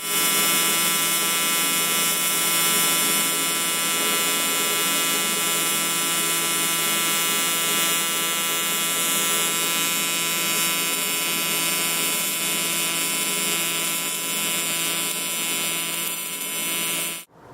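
A Longevity TIGWELD 200 DX AC TIG welder runs at about 80 amps on aluminum turbo charge tube for a land speed bike, giving a steady loud electrical buzz with many tonal lines that holds nearly unbroken before cutting off at the end.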